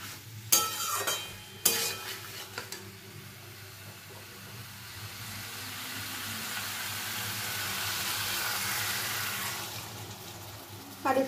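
Warm water poured into a pan of potatoes and pointed gourd frying in oil, a couple of sharp splashy bursts at the start settling into a steady, close sizzling hiss that swells gently and holds, with no talking.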